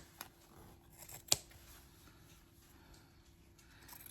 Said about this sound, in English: And then I'm going to just trim it